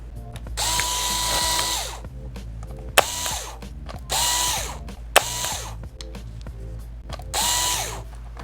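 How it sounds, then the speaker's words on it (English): Power screwdriver backing out motherboard screws on a Dell Chromebook 11 3110, several separate whirring bursts of about a second each with short pauses and small clicks between, close and clear with no talking. "Remove the motherboard screws."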